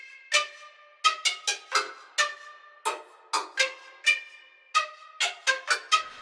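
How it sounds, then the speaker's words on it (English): Plosive short articulations from the Neo Trio woodwind sample library: a sequence of sharp breathy attacks with brief pitched tails, played in irregular bursts, close and clean against silence. "Then we have our plosive shorts."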